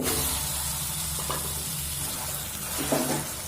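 Marinated chicken sizzling in a pan of fried onions, a steady close frying hiss running throughout with a few faint clinks and stirring scrapes.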